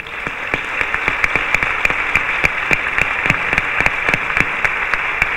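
Warm applause from an audience at a fair poster and book presentation honouring volunteers, a dense continuous clapping crowd with distinct sharp individual claps standing out rhythmically throughout, steady and fairly loud.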